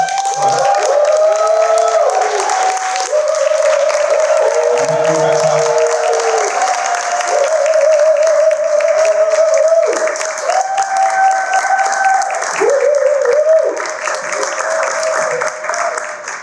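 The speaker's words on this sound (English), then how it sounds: "I want you to clap for her, make noise, and encourage her" Audience applause at a business conference, a steady dense wash of clapping with scattered cheers and whoops running for the whole stretch, loud and close, with no talking over it.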